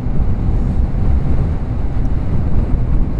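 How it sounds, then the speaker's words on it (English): Heavy wind buffets the microphone in loud, rumbling gusts during a motorcycle ride, a continuous low roar with no voices over it. "It is quite windy though"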